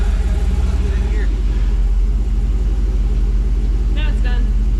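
A Chevelle's engine idling close by, a loud steady low rumble with a regular pulse throughout, a voice talking briefly over it.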